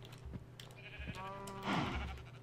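A cow in the video game Minecraft lets out a low, drawn-out moo that sweeps downward in pitch, preceded by a few soft thuds and clicks. It sounds fairly close, with no talking.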